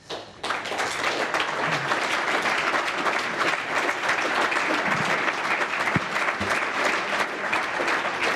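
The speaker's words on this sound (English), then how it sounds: "Applause, I'm sure, for the answer and the question." An audience at the National Press Club in Australia applauds after a question-and-answer exchange at a political address, with dense, steady clapping that starts abruptly and fills the room for about eight seconds.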